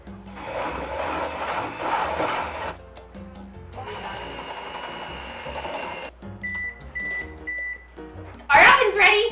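An oven signals that preheating is finished with a short run of four evenly spaced electronic beeps, sounding midway through ongoing kitchen noise and bursts of mechanical whirring.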